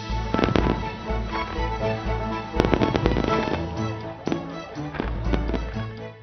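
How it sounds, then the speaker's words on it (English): Fireworks display at a 4th of July celebration in O'Fallon, Missouri: dense, continuous crackling and booming bursts, loud and sustained, with sharp pops throughout. "What 4th of July celebration would be complete without an amazing fireworks display?"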